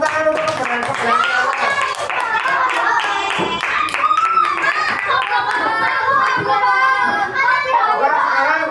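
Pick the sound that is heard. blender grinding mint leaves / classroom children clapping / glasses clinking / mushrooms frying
classroom children clapping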